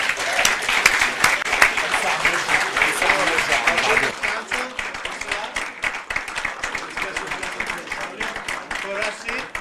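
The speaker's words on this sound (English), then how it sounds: "let's make a big applause for our film experts" Audience clapping for a panel of film experts at a European active citizens week event, a steady broadband patter with a host's voice speaking over it, easing slightly after the first few seconds.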